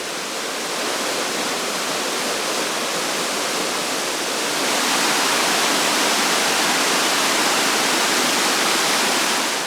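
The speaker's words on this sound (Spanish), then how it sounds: "Aquí un torrente cae en cascada por una serie de escalones rocosos" A mountain torrent in Albania cascading down a series of rocky steps, a dense, loud, continuous roar of rushing water that swells slightly midway, with no voices.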